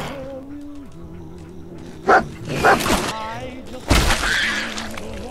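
Dog barking in a post-apocalyptic video game, a few sharp barks over game sounds, with someone talking throughout.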